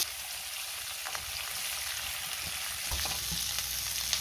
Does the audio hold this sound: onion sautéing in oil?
yes